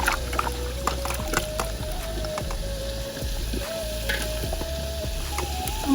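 Potatoes fry in a pot, producing a steady, close, dense sizzle with frequent stirring clatters and a faint background hum throughout.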